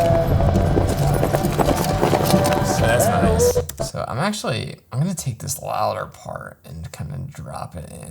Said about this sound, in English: it's hard to tell whether the galloping noises are exactly timed up with the horse or not